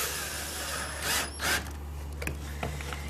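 A power driver sends metal roofing screws into a TV antenna mount, giving short close whirring and ratcheting bursts over a steady motor hum, with faint clicks afterward.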